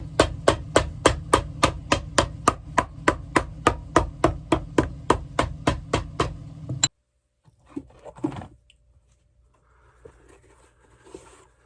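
A hammer strikes a vintage Allen Edmonds shoe sole being resized at a repair bench, about twenty sharp, evenly spaced raps in quick succession, then stopping for quieter handling noises.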